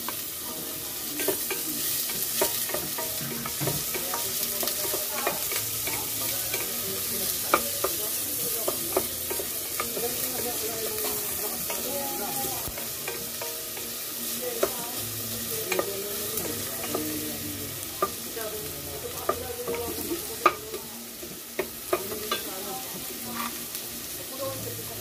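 Onions frying in a pan for chili garlic shrimp, a steady close sizzle with repeated scraping stirs and occasional utensil taps, and a voice faintly heard at times.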